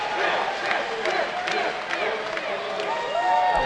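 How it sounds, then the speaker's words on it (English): A crowd at the 2011 Major League Gaming Pro Circuit esports event in Raleigh, North Carolina, cheering and shouting in a loud, continuous roar with scattered clapping. "And the crowd is cheering them on."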